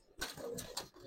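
Giribaz and coloring pigeons give soft, brief coos, two or three short calls close by in a quiet space, with faint murmuring around them.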